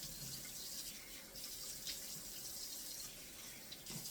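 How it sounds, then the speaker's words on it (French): Lukewarm tap water runs steadily from a faucet into a sink while a face is rinsed during a skincare routine; a faint, even hiss of flowing water with small splashes continues throughout, without talking. "Il faut bien rincer à l'eau tiède"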